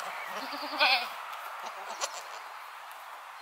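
Young goats bleat a few times, with one louder, wavering bleat near the start amid outdoor background noise and some faint voices.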